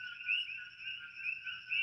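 Frogs calling at night on the Big Island of Hawaii, a steady high-pitched chorus of overlapping trills, fairly distant and continuous with no voices.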